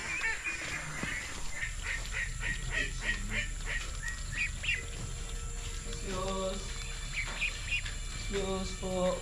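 Ducks on a rural Ilocos farm quack in repeated bursts, some close and loud, others overlapping in a steady chatter against outdoor background noise.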